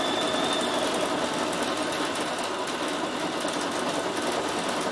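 A Bernina 7 Series embroidery module stitches out a name at increased speed, giving a steady, close, rapid mechanical whirring hum that runs without pause throughout.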